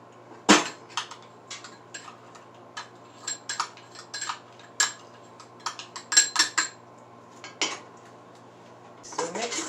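Utensil scraping and clinking against a pan while butter and brown sugar are mixed for banana-berry bread, a string of irregular sharp metallic taps and scrapes, close and fairly quiet over a low steady hum.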